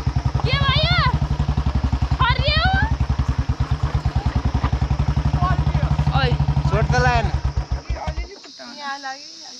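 A heavy Bullet motorcycle thumps along a rough village road with a steady, rapid engine beat, while people talk over it; the engine cuts out near the end, leaving voices.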